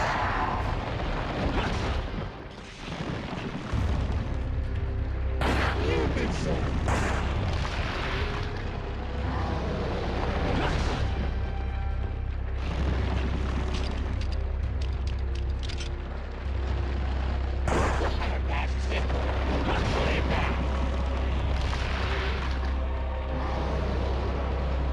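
Gunfire in Resident Evil 4 on PS2, a long stretch of repeated loud shots and booming blasts at an irregular pace over a steady low rumble, with only occasional brief speech.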